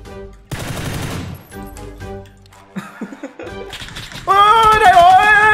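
Automatic gunfire bursts in the battle royale game PUBG, loud and close, with a rapid rattling volley at the start and shorter shots later, mixed with game sounds and a voice near the end.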